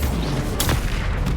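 A Bombarda blasting spell cast in the wizarding game Hogwarts Legacy, a single loud explosive boom breaking through dense combat noise mid-moment.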